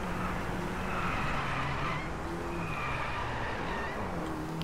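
Racing car drifting in Driveclub on a Tamil Nadu track, engine droning steadily while tires squeal and skid in long drawn-out sweeps, loud and continuous with no talking.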